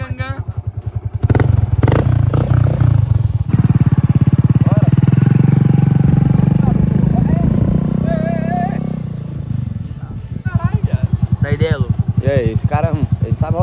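Motorcycle engines rumble and rev loudly up close throughout at a motorcycle gathering, with sputtering bursts and shouting voices mixed over the engine noise.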